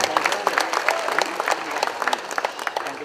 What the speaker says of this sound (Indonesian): kita beri tepuk tangan untuk panitianya.